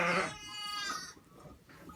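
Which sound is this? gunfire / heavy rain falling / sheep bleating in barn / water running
sheep bleating in barn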